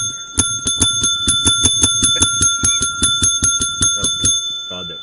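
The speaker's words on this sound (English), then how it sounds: "God, that fucking bell." In the video game Agrarian Skies 2, a bright, shrill bell rings rapidly and insistently, about fifteen quick strikes in a steady run, loud and close, then stops abruptly.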